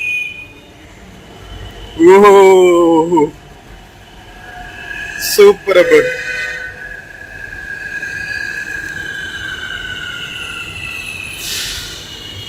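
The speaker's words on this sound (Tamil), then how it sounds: "ட்ரெயின் வந்துருச்சுங்க" A Hyderabad Metro train on the Red Line pulls into the station at MGBS and rolls on. Loud rumbling and screeching bursts come from the wheels, then a steady running hum. People speak briefly over it.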